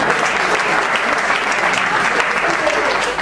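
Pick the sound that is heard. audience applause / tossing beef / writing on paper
audience applause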